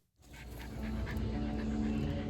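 Dogs on an outing at Rock City Gardens pant rapidly and continuously at close range, fairly loud, with no talking.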